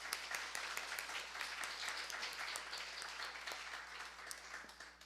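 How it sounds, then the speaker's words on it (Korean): Church congregation applauding in thanks, a soft, distant-sounding spread of clapping over a low steady hum, lasting about five seconds. "우리 두 분께 우리 감사의 박수 올려드리겠습니다"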